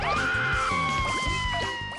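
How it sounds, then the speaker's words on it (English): Cartoonish screaming voices from people rolled up in the We Love Katamari video game, overlapping yelps and wails over bouncy game music and sound effects, loud and continuous for a brief moment. "That's why they're screaming."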